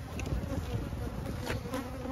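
Honey bees in a solidly packed hive give a dense, continuous buzz, close and even, with no voices over it.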